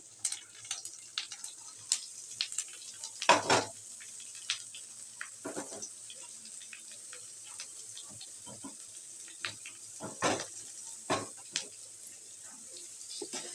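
Carrot pieces fry in a pan with a faint, steady sizzle and scattered crackles, plus a few sharper clicks and scrapes as the pan is stirred.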